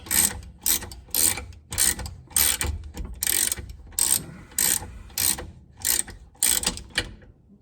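Ratchet clicking in repeated bursts as a differential fill plug is unscrewed on a Chrysler Crossfire, about a dozen quick close ratcheting strokes with short pauses between them, no talking.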